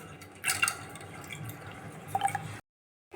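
Urad dal being rubbed and washed by hand in water, with soft wet squishing and dripping, louder splashy bursts early and late, then a brief silence.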